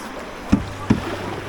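A canoe on the Whanganui River in New Zealand, with two quick paddle strokes splashing close by over a low steady rush of water.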